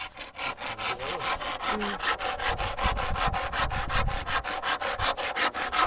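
Hand saw cutting wood into pieces outdoors, steady back-and-forth rasping strokes repeating at an even quick rhythm, close and continuous throughout with no talking.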